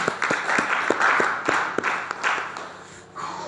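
A church congregation applauds in praise during a French-language sermon, a steady wash of clapping with sharper individual claps standing out, fairly close and continuous before briefly thinning near the end.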